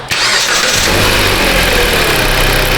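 A Jeep Compass with an EVAP fault cranks and fires up, catching quickly and settling into a loud, steady idle close by.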